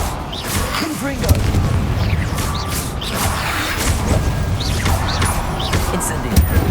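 The Confringo fire spell bursts repeatedly during spell-casting combat in Hogwarts Legacy, loud booms and whooshing blasts over dense battle noise.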